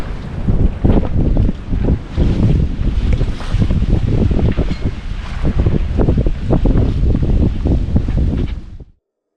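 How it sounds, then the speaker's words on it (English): Sailboat under sail on the Indian Ocean, steady loud rush of wind across the microphone mixed with water slapping and washing along the hull, continuous and close, cutting off abruptly at the end. "For now, we're just going to enjoy this magic sailing."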